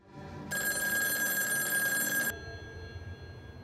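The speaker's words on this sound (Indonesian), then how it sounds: "telepon di kamar nomor 13 berdering kembali" Telephone in a motel room ringing with a loud electronic bell trill for about two seconds, then cutting off into quiet room noise.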